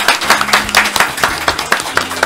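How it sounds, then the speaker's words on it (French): A few people clap by hand for a mascot at a student competition, a quick series of distinct, close claps in an uneven rhythm, with little else in the background. "Merci d'applaudir Joy, la mascotte!"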